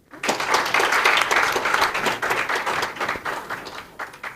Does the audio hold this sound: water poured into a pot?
no